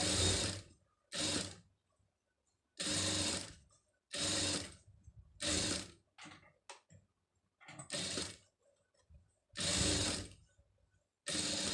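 A sewing machine stitches a silk border onto a blouse neckline in repeated short bursts of close mechanical whirring, separated by quiet pauses and a few light clicks.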